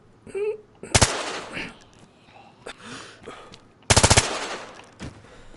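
Two sharp bursts of rapid automatic gunfire from a shooter video game set in Chernarus, loud and close, with quieter game noises and breathing between them.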